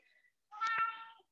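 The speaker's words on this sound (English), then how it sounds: "Sorry if you hear a cat meowing" A single short house cat meow, fairly close and clear, sounds in a quiet indoor room after a faint earlier murmur.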